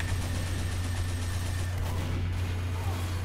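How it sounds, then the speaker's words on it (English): Gunfire crackles through a Team Fortress 2 match under a constant low engine-like hum, with repeated shots but no single distinct Sydney Sleeper sniper rifle crack standing out. "if I shoot a teammate with the Sydney Sleeper"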